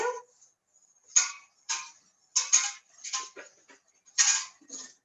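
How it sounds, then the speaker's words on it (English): A whisk is working a milk and vanilla mixture in a bowl, heard as short bursts of clinking and scraping in an irregular rhythm, close and fairly quiet, with pauses between strokes. "And we're going to whisk that."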